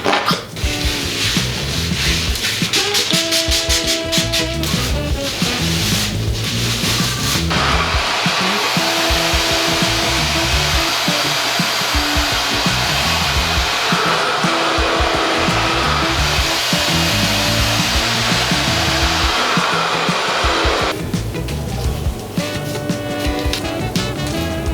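A blow dryer fitted with a diffuser-type attachment runs loud and steady throughout, its whirring roar dominating the whole stretch with a shift in pitch partway through as the airflow changes.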